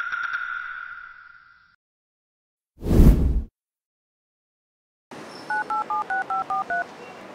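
Phone keypad dialing tones: a string of seven short, evenly spaced electronic beeps, loud and close, following a brief whoosh and a fading tone, with no talk.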